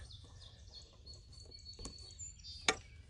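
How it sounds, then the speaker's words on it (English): Faint song sparrow song in a quiet arboretum, with a few short chirps and a sharp call near the end over low background rumble. "Song sparrow."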